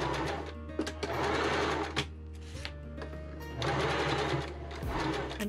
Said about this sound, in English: I'm sewing the lace right sides to right sides on the collar to start out.